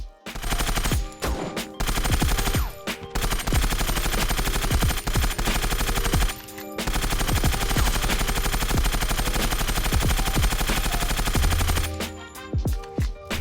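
Rapid automatic gunfire from a weapon in the video game ZERO Sievert, a low-recoil build, loud sustained bursts with brief pauses between strings of shots.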